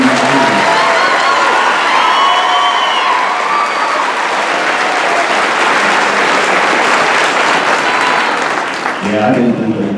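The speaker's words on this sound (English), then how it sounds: "let's give them a round of applause." Graduation ceremony crowd at Northeastern applauding the class, a loud, sustained wash of clapping with cheers and whoops for about nine seconds before talk resumes.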